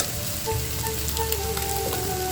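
Drumstick pieces fry in a pan of onions for an egg curry, giving a steady, continuous sizzle with faint crackles and a low hum beneath, close by and without talk.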